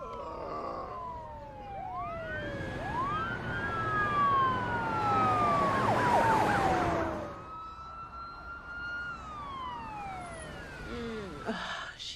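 Ambulance sirens wail through the street, several overlapping rising and falling tones that swell louder, then fade into the distance, with faint voices underneath.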